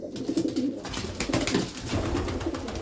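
Racing pigeons coo steadily inside a loft, several birds overlapping in low throaty calls that continue throughout at moderate loudness, with faint rustling in the background.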